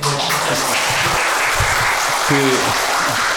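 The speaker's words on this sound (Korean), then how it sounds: "권선태 교수님 소개하니까 박수가 나오네요." Audience applause fills a talk concert hall as a co-host is introduced, a steady, dense clapping that runs loud throughout, with some speech faintly mixed in.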